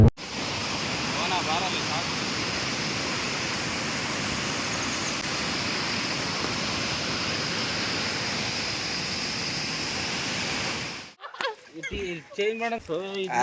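Jog Falls, a tall waterfall in Karnataka, gives a loud, continuous broad roar of falling water for about eleven seconds, then cuts away to voices talking.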